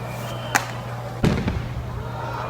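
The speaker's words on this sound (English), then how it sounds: "Wow, from fireworks, look at this." Fireworks in Japan bursting at a distance, a couple of sharp pops followed by a heavier boom, with a steady hum in the background.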